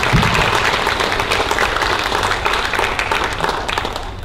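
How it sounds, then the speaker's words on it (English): An audience gives a round of applause at a presentation on an economic impact study, with dense, sustained clapping from many hands that fades slightly toward the end. "Would you join me in giving them a round of applause"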